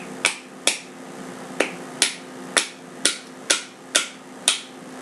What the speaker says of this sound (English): use my Allen wrench, and just kind of hit it out